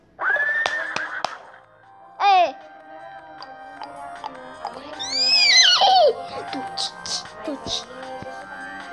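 A horse whinnies several times in a video game, shrill rising-and-falling calls in bursts across the stretch, with some vocal sounds between them.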